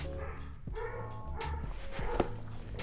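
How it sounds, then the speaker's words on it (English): Several dogs bark and yip in a busy indoor space, short repeated barks overlapping a steady background of room noise and low murmur, fairly close and moderately loud. "You gotta love the dogs too."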